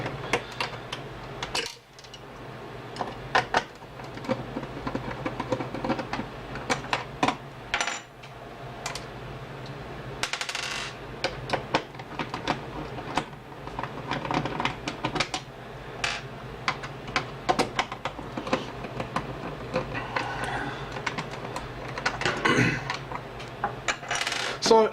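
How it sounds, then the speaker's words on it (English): Screws being taken out of motherboard brackets while a Ryzen 3 1300X budget PC is assembled: a steady run of small metallic clicks, taps and scrapes, close and fairly quiet, with almost no talk. "So we'll take these screws off real quick."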